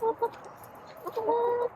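Chickens clucking softly on their perches as fireworks begin outside, a few short clucks near the start and a longer, steadier run of calls toward the end, close and moderately loud.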